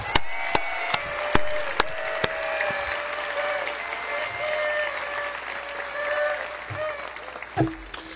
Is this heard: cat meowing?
no